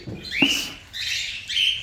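Baby pet birds around three weeks old give high, thin chirps, three short calls in quick succession, close and clear with little background.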